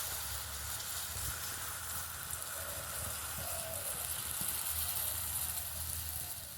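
Besan (gram flour) batter spread in hot oil in a kadai sizzles softly and steadily, a continuous faint frying hiss throughout with no talking.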